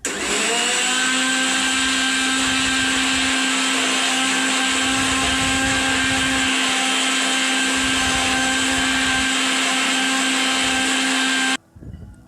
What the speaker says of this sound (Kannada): ಇದನ್ನು ನಾವು ಗ್ರೈಂಡ್ ಮಾಡ್ಕೊಳ್ಳೋಣ. ಮೊದಲು 1 ನಿಮಿಷ ಮಾತ್ರ ನಾನು ಗ್ರೈಂಡ್ ಮಾಡ್ಕೋತೀನಿ.